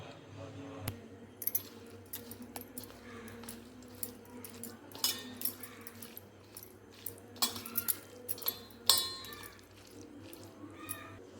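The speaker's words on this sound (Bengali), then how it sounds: "এখন সামান্য জল নিয়ে নিব আর এটাকে মেখে নেব" A spoon mixes a wet coconut batter with gram flour, salt, nigella seeds and turmeric in a bowl after a little water is added, giving quiet irregular clinks, taps and squelches close by over low background noise.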